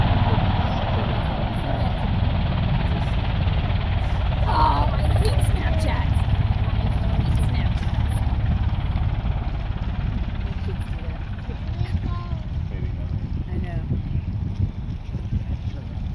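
A V-22 Osprey tiltrotor lifts off and passes overhead, a steady loud rotor and engine roar holding constant, then thinning slightly as it moves off.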